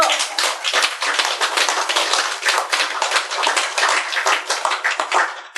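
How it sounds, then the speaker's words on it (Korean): Group of listeners at a Buddhist sutra lecture claps together, a continuous bright patter of many hands lasting several seconds, fairly close and even in loudness, with no voices over it. "알았으면 박수 좀 쳐!"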